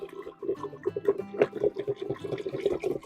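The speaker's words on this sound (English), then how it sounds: "So one last quick stir." Orange juice mead being stirred in a fermenter, a run of close liquid sloshes and swirls with small splashes and drips, no voices.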